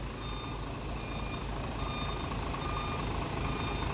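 A truck hauling a trailer backs up in a tight space, its reversing alarm beeping steadily over a continuous engine rumble, with no voices heard.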